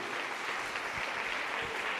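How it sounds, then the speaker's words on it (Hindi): Congregation in a church clapping for the glory of God: steady, dense applause of many hands throughout, fairly close and even in level, with no talk over it. "जोरदार ताली बजा देंगे प्रभु की महिमा के लिए।"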